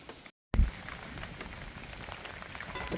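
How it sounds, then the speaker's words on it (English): Rain falls steadily on a garden and pond, a dense close patter that starts after a brief silent gap and continues evenly, with no talk. "The pond is enjoying the rain."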